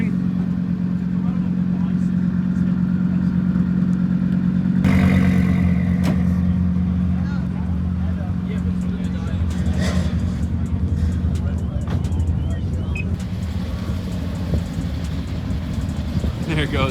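An Audi SQ5 with a downpipe tune pulls away, its steady low engine rumble holding throughout while people talk over it.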